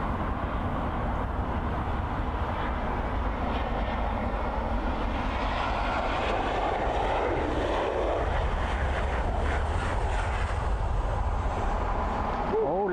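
Ryanair Boeing airliner landing at Dublin Airport with a slight bounce, its steady jet engine roar loud and continuous throughout, with a faint rising whine near the end.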